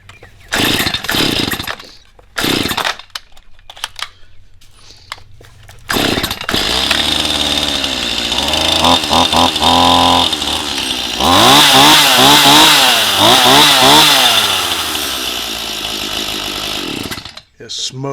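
Stihl MS 171 chainsaw, newly running after a carburetor repair, sputters through short bursts before catching and revving loudly with rising and falling engine whine, close up, ending in a brief drop-off.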